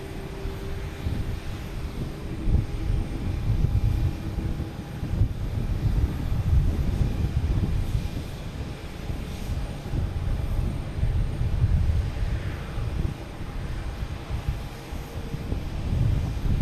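A Boeing 737 MAX 8 airliner at Boston Logan Airport gives a steady, broad engine roar that swells and eases slightly over the whole stretch, with no voices.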